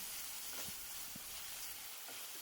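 Chicken tossed in sauce over a high flame in a stir-fry with broccoli, giving a steady close sizzle with a few soft stirring clicks and knocks and no talking.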